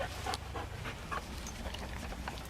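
A working dog at a Swiss bite-work championship demonstration in Lavigny pants steadily in quick rhythmic breaths, close by and moderately loud, with faint outdoor background and no talk over it.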